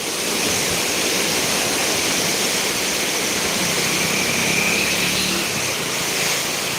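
Loud, continuous torrent of Sutlej river water rushing through a headworks gate at Ropar, a broad churning roar that holds steady throughout with no speech.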